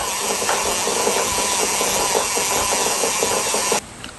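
Monofilament fishing line being wound onto a spool wedged into a hole in a workbench, a close steady rubbing, ratcheting whir with faint rhythmic clicks, stopping abruptly near the end.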